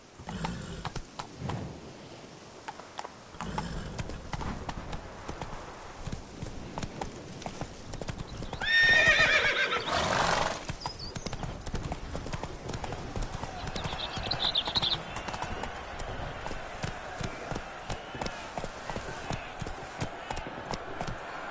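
A horse gallops with continuous rhythmic clip-clopping hooves in The Witcher 3, accompanied by a brief whinny and game ambience, steady and moderately close throughout.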